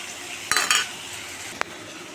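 Spice paste loosened with water hits hot oil for aloo dum and gets stirred, giving a sharp burst of sizzle and two quick scrapes, then a brief clink against the pan over a quiet background hiss.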